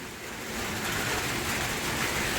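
Rain falls on a garden, a dense, steady hiss of drops that fills the whole clip evenly and close by, with no voices.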